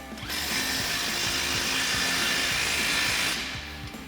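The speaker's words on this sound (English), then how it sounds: "So again, our 18mm socket and our 18mm wrench. We'll tighten these down." A ratchet with an 18mm socket, held against an 18mm wrench, tightens the rear crossbar bolts of a contractor rack on a Toyota Tacoma pickup. A loud, continuous mechanical whir runs for about three seconds, with clicking underneath.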